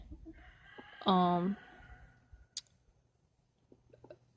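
A Silkie chicken lets out a single loud, drawn-out call, followed by scattered faint clicks and small rustling sounds in a quiet space.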